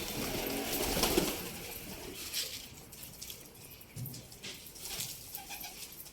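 Soft pigeon coos sound faintly at a distance over a low, noisy background, with a few scattered small knocks.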